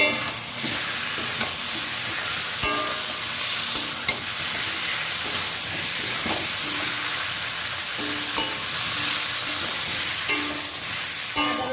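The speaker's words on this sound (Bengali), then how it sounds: "রসুনের পেস্ট দিয়ে ভালো করে ভেজে নিচ্ছি মশলাটাকে যাতে কাঁচা গন্ধটা চলে যায়" Ginger, garlic and green chili paste frying with spices for a chicken dish, a steady loud sizzle with repeated stirring scrapes throughout, close and without speech.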